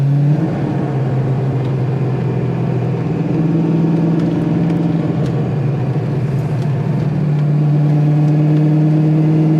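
Foxbody Mustang with adjustable shocks and struts cruising on the road, its engine giving a loud steady drone with a slight pitch shift as it accelerates, heard from inside the car without talk.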